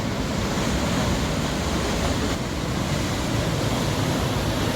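Fast, powerful river water rushing over rocks at Surya Kund near Gangotri, a steady, loud, broadband roar filling the whole clip without a break and with no voices.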